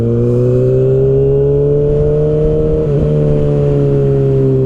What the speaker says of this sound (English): Even just coming to a stop, rolling to a stop with this new exhaust system sounds cool